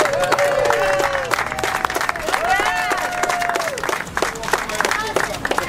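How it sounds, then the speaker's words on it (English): A crowd at a charity burger-eating contest breaks into applause and cheering for a team that lasted the challenge, dense clapping with whoops and raised voices layered on top, loud and close throughout. "let's give them a round of applause"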